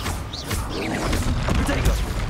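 Spells including Confringo and Bombarda blasts go off in the Hogwarts Legacy video game, dense bursts of whooshing, crackling impacts and thuds packed close together, with a voice talking over the action.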